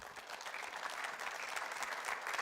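Dense, continuous applause from a church congregation fills a brief moment, fairly faint and without pauses.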